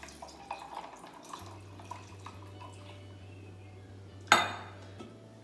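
Coconut water pours and trickles quietly into a container holding syrup and guava juice, with light clinks of glassware, ending in a sharp clatter near the end.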